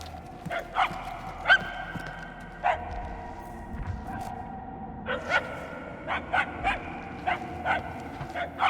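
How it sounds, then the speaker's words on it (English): Dog barking in the video game Guardians of the Galaxy, a series of short, sharp yips and barks at irregular intervals, moderately distant, over quiet game ambience. "The barks are getting louder at least."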